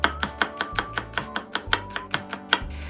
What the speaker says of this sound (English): Slice some cabbage and a little carrot thinly.